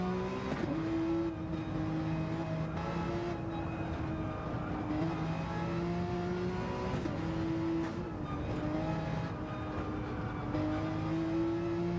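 Porsche 911 RSR race car engine in a racing video game, a loud sustained high-pitched whine that rises through the gears with brief dips at each shift, heard continuously without commentary.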